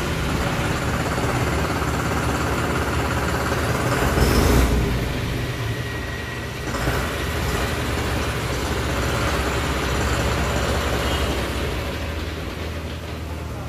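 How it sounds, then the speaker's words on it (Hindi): A 2021 John Deere 5405 tractor engine runs continuously, a loud steady diesel rumble with a brief surge in revs partway through and no talk. "तो कैसे लगी ट्रैक्टर की आपको इसकी आवाज़"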